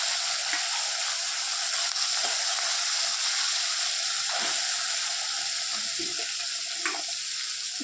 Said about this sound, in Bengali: তেলটা না বেশি গরম হয়ে গেছে গো, ওদিকে কাজ করতে করতে মাছটা ছেড়ে দিই